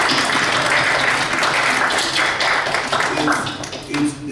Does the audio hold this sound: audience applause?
yes